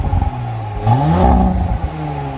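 Audi S5 B9 with a CTS high-flow catalytic converter exhaust revs up from idle, its pitch climbing to a loud peak and then falling back, close by.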